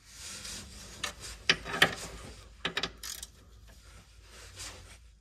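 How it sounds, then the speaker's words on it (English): Hand ratchet loosening stubborn, rust-fighting bolts on a Chrysler Town & Country / Dodge Grand Caravan, heard as a few short bursts of close metallic clicking with pauses between them, fairly quiet overall. "I like using a hand ratchet to do this before resorting to an impact or anything"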